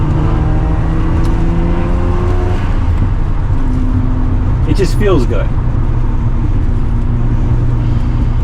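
A Mazda RX-7 FD with a Pettit Racing cold air intake and Racing B exhaust with high-flow catalytic converter, driving: a loud continuous engine drone and road rumble under a driver talking, with a brief rising engine swell midway.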